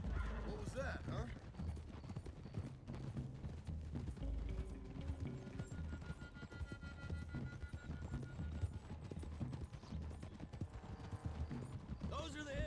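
Horses galloping in the video game Red Dead Redemption, a steady run of hoofbeats with a whinny, under a dense, continuous bed of game sound and voices.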